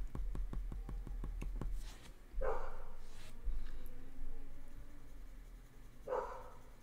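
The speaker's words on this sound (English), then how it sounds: "you're going to be able to hear the neighbour's dogs now" A neighbour's dogs bark a few times at a distance, with two or three separate, fairly faint barks spaced seconds apart. A quick series of light taps or clicks comes before them in a quiet indoor room.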